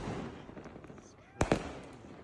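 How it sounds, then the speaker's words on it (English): Illegal fireworks burst overhead on New Year, with two sharp, loud bangs in quick succession following a stretch of distant crackling and background murmur, while people talk nearby. "And these are all illegal fireworks."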